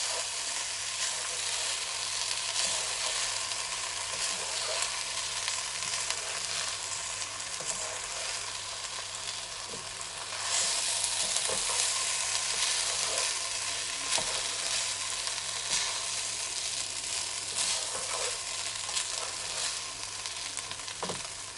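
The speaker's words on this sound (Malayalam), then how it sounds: "ജസ്റ്റ് അരി പൊടിഞ്ഞു പോവാത്ത രീതിയിൽ വേണം നമ്മൾ ഇളക്കി എടുക്കാൻ" Vegetable fried rice is stirred gently in a hot pan, producing a long, even, soft sizzle with faint scraping and tapping of the spatula, close and unbroken.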